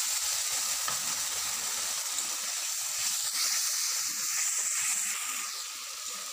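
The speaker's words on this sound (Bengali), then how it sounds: "মশলাটা ভাজা ভাজা হয়ে গেছে" A spice paste of ground chili, turmeric and cumin fries in a pan, giving a continuous close sizzle with faint stirring scrapes underneath.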